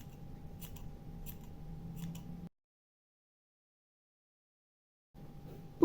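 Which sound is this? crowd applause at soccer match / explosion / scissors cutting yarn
scissors cutting yarn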